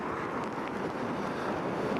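Steady gusting wind from a storm rushes against the microphone on the Atlantic Canada shoreline, a continuous broadband roar with faint surf beneath it and no voices.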